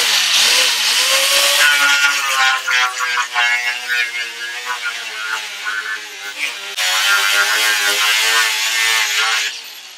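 An angle grinder abrades the metal surface of a Toro eFlex reel mower spindle, a loud continuous rasping screech with wavering pitch, one brief dip midway, then resuming strongly until the end.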